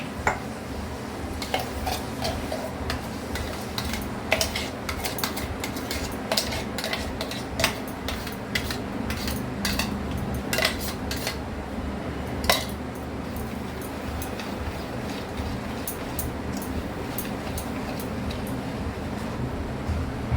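A spoon mixing powdered milk into mango cake batter in a bowl: repeated light clinks and scrapes of metal against the dish at an irregular pace, close and moderately loud over faint background noise.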